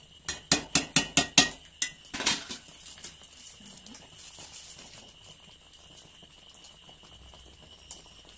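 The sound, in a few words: stirring food in a cooking pot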